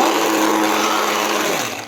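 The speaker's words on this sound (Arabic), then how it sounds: "وهنضربه بالهاند بلندر" A hand blender whirs loudly and continuously as it purées boiled lentils in a pot in a home kitchen, the motor steady before winding down at the end.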